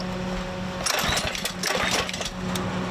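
A gas pressure washer's engine is pull-started. After a quiet idle hum it kicks into a rough, sputtering burst of firing for about two seconds, then settles back, close by.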